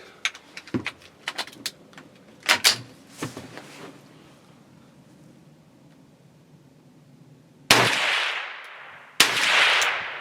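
A CZ 512 semi-automatic .22 Magnum rifle fires a rapid string of sharp cracks at an outdoor range, followed by quiet and then two loud, close blasts of noise near the end.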